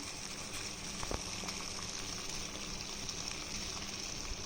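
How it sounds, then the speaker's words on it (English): A pot of water boils, giving a soft, continuous bubbling hiss with occasional small pops, fairly faint and steady from start to finish. "It's boiling. Water is boiling."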